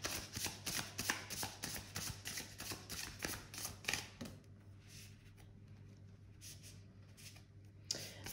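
Tarot cards are riffled and shuffled close by in a quick run of crisp flapping bursts for about four seconds, then the sound drops to near silence before one last soft shuffle.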